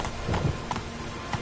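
Roach, a horse in The Witcher 3 video game, gallops with a light, muffled clip-clop of hooves that repeats steadily over a low background hum, fairly quiet and close.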